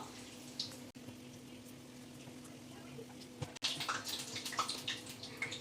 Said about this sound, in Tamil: மறுபடி நம்ம வாடா மாவு தட்ட முன்னாடி இந்த துணியை திரும்ப ஒரு தடவை அலசிடணும்